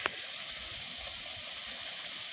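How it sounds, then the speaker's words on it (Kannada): Borewell water gushes in a thick three-inch stream into a farm pond on farmland near Mysore–Nanjangud. It makes a steady, loud, continuous rushing roar with no voices. "ನೀರು ಎಷ್ಟು ದಪ್ಪ ಹೊಡ್ತಾ ಇದೆ"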